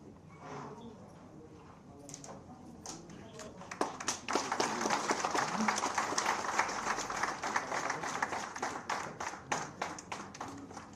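A crowd at a BJP political rally in Shimla, Himachal Pradesh, claps enthusiastically welcoming the Chief Minister, a burst building from scattered claps into steady, dense clapping, with a voice faintly audible early on.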